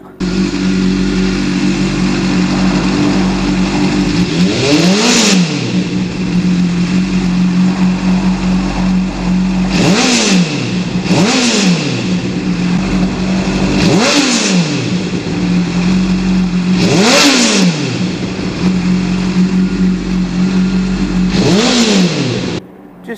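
A Honda CBR600RR motorcycle engine idling loudly up close, then revved sharply about five times, each rev climbing toward roughly 7,000 RPM and dropping back to idle.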